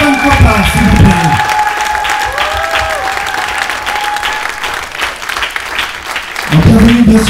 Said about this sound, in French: Encore des applaudissements pour Istvan Coppa, s'il vous plaît.